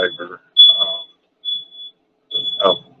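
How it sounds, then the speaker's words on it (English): Truck reversing alarm outdoors, a series of high, steady electronic beeps repeating at regular intervals, with someone talking over and between them. "We got a truck backing up."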